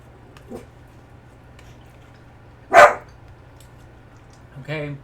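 A dog named Griffey gives a single sharp, loud bark near the middle, preceded by a faint yip and followed by a short whining bark at the end, all over a steady low hum.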